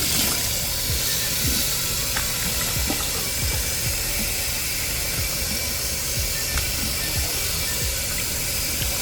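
Cold water sprays steadily over a car's cold air intake filter during cleaning, a constant loud hissing rush with small splashes and drips, with no talking.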